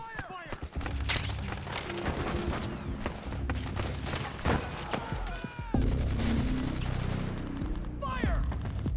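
Rapid gunfire from Metal Gear Solid 4 on PS3 crackles almost nonstop, with bursts and sharp single shots layered over shouted voices and other battle noise.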